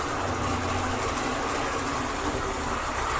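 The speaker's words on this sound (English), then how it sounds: "So we're coming in for a stop now." A model railway train rolls along raised track with a steady mechanical rumble and motor whir, close and continuous as it slows toward a stop, with no talk.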